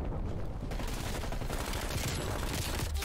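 Dense gunfire in the online shooter Black Ops Cold War, with rapid overlapping shots and bursts that run without a break at moderate loudness.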